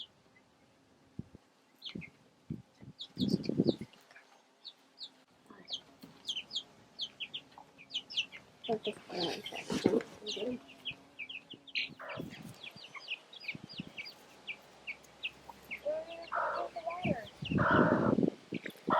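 Hens and chicks cluck and cheep in scattered bursts, with a broody mother hen guarding her three chicks; a person talks at moderate distance between the calls.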